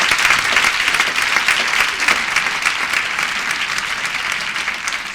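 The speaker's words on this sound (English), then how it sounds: "let's give them a nice round of applause." An audience at a middle school parenting event gives a warm round of applause for supporting organizations, sustained dense clapping that stays strong and gradually eases over several seconds.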